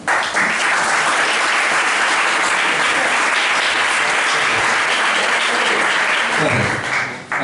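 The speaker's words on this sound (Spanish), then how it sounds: "Un aplauso." Applause from an audience at a talk welcoming a speaker to present on an association, sustained loud clapping for about seven seconds, fading slightly at the end.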